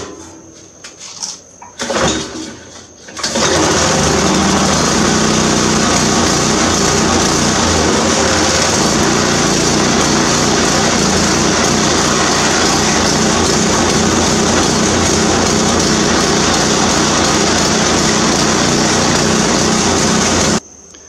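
A Cub Cadet riding mower engine starts with a few faint knocks, then runs at a loud, steady drone with its clutch engaged. The drone holds without a break for about eighteen seconds and then cuts off abruptly.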